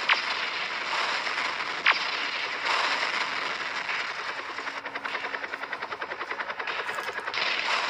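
An animated helicopter carrying a camera in a Skibidi Toilet episode, a steady rotor whir mixed with rapid gunfire bursts and crackling impacts, loud and continuous.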